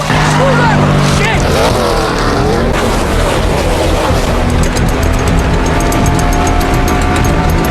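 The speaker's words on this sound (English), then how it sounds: "the driver revved the engine and rushed back onto the track" A race car engine revs hard at a pit stop and the car speeds back onto the track, loud and continuous, with a rising whine and sustained roar that fills the whole stretch, and a voice narrates over it.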